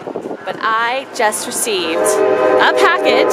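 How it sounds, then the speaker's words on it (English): A train's horn sounds from a distance outside a post office on a cold, windy day, a sustained tone running beneath a person talking. "that's a train you're hearing"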